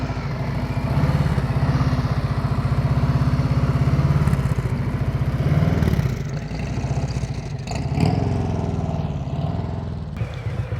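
A motorcycle rolls at slow speed with the throttle held open, its engine throbbing steadily up close, rising and falling in pitch through gentle surges, with no one speaking.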